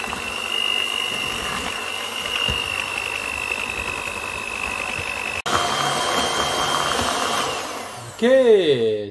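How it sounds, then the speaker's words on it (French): An electric mixer whisks a sugar mixture with a loud, steady motor whir. It cuts out briefly midway, then resumes, and ends with the whine rising and falling as the speed shifts. "on va fouetter ça pendant 2 minutes"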